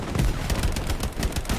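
Rapid, loud bursts of automatic gunfire from the video game Hell Let Loose, with shots crackling close together and continuing throughout without a pause.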